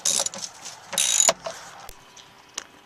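A ratchet clicking as it works a bolt loose inside the passenger-side wheel well of a Pontiac Grand Prix, with short bursts of quick metallic clicks, close and fairly quiet, then a few isolated taps and clanks.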